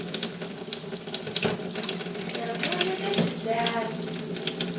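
A child rinses a bowl dirty with red sauce under a running tap, water splashing steadily at close range with brief louder splashes.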